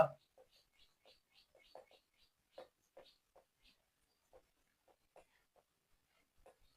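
Chalk or marker tapping and scratching out a simple-interest formula on a classroom board, a sparse run of short faint strokes and ticks with quiet pauses between them.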